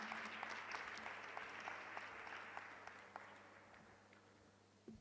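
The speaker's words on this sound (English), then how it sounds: "Let's give another round of applause, please, ladies and gentlemen." Steady applause from a crowd at a school of entrepreneurship launch event, dense clapping that gradually fades toward the end, heard at a moderate distance.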